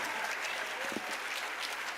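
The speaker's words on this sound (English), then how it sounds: "Can we have a huge round of applause for Sir?" Audience applause at a live school event, a steady dense wash of many hands clapping filling the whole stretch at moderate volume, with no voices over it.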